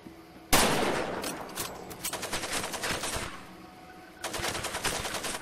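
Rapid machine-gun fire from enemy soldiers in Far Cry 2 erupts suddenly, with rattling bursts that continue, ease off briefly, then pick up again, loud and close.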